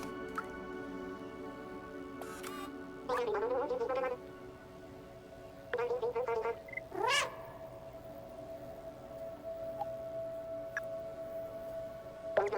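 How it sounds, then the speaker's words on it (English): Cats meow repeatedly in the video game Stray, several distinct mewing calls in bursts spaced across the stretch over a steady musical game background, with no talking. "God, these cats are so cute."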